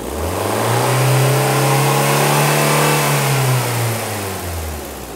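A fuel-injected engine revs up from idle to higher RPM and holds there, a loud close mid-pitched drone rising then easing back down, with no voices.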